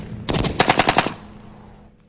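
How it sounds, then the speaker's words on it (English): A close, loud burst of fully automatic rifle fire, roughly eight rapid shots in a tight string, followed by a fading echo, with no talking; the rifle is an AK-47 or M16. "fully automatic fire"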